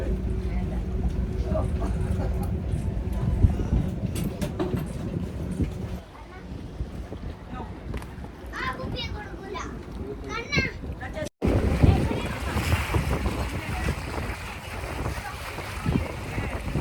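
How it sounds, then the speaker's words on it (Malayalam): A houseboat cruising on the backwaters at Alappuzha, with a steady low engine drone, wind buffeting the microphone and water noise, while children and adults talk nearby. "നമ്മള് ഹൗസ് ബോട്ട് ഓടിക്കാനാണ് എക്സ്പീരിയൻസ് ചെയ്യാൻ"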